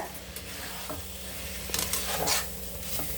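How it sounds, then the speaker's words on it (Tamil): Mushrooms being stirred in a pan to coat them in masala for mushroom biryani, a soft steady sizzle with occasional scraping strokes of a spoon against the pan. "நல்லா வந்து மஷ்ரூமில் ஃபுல்லாக அப்படியே அந்த மசாலா எல்லாம் நல்லா கோட் ஆகிற மாதிரி பண்ணிக்கோங்க"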